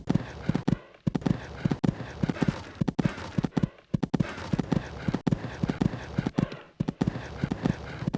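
Rhythmic clip-clop of a horse's hooves in the Equestriad 2001 show-jumping game, steady cantering beats with brief pauses around fences, fairly close and clear with no talk over them.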